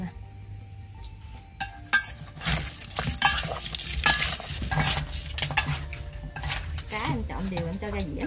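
Eel marinated with fish sauce and fried garlic being stirred and mixed in a dish, close scraping and clinking of utensil against the bowl in a busy run of strokes, with talking beneath.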